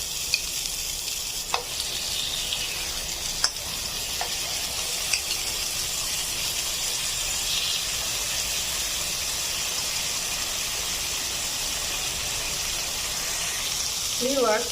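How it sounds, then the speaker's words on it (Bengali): Marinated fish frying in hot oil, giving a steady, close, dense sizzle that continues evenly throughout with a few brief sharper pops. "এখন আমি মাছটা ভেজে নেব একটু লালচে করে সুন্দর করে ভেজে নিতে হবে প্রথমে আমি মাছটা ভেজে নিচ্ছি"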